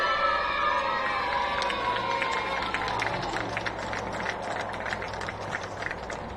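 A crowd in a school gym at a high school basketball game cheers and claps, a broad, sustained roar of voices and scattered hand claps fading slightly over several seconds, with shouts rising above the din.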